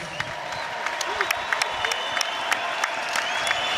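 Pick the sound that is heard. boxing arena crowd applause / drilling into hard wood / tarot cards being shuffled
boxing arena crowd applause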